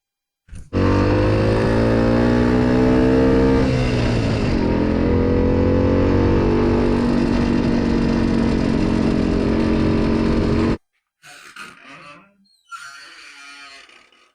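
A motorcycle engine with a slipping clutch roars steadily up close for about ten seconds, rising slightly in pitch, then cuts off, followed by a couple of short rough bursts.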